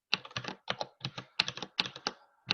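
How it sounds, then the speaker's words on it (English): Fingers tap out notes on a computer keyboard during an online architecture conformance meeting, with quick bursts of close, crisp keystrokes separated by short pauses. "I'm not real good at typing my notes here"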